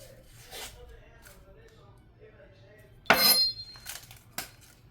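A knife slices an onion into slivers for fajitas, giving a few sharp, close chops and scrapes against a hard surface, with quiet gaps between the cuts and some soft handling noise.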